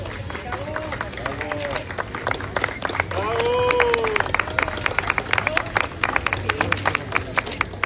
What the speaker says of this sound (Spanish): El aplauso fuerte, por favor, a la maestra Guadalupe Esther Nájera Villatoro.